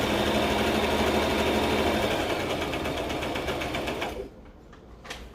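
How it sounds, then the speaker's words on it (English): A sewing machine runs steadily and close up, stitching parts of a dress with a fast, even mechanical whir. It stops near the end, leaving a couple of faint clicks. "I love sewing. I can sew all day if I want to."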